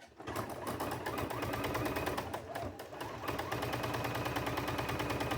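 A sewing machine runs steadily, stitching a seam down the side of fabric pieces for a cow-themed quilt, its fast rhythmic needle chatter loud and continuous from start to finish.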